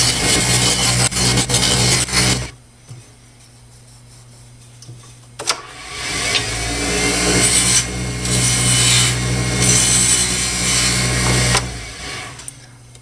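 A deer antler pen blank turns on a lathe as carbide tools cut it, a loud steady motor hum with rough scraping, a quiet pause in the middle, then cutting resuming.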